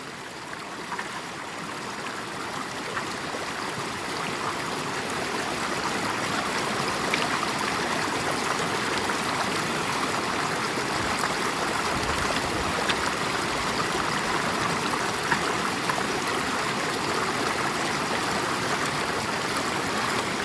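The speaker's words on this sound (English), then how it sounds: "Quick process running this through a sluice." Water rushes steadily through a gold sluice on a Keene A52S, a continuous close hiss and trickle that swells slightly, alone with no voices.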